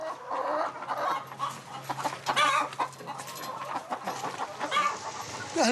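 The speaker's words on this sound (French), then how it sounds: "Des poules pondeuses" Laying hens on a farm in Réunion cluck steadily and close by, with overlapping calls from several birds throughout and no talking.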